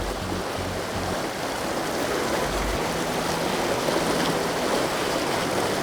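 Turbulent water of a shallow pocketwater trout stream rushes continuously, a loud, dense, close-up roar of flowing current with no voices.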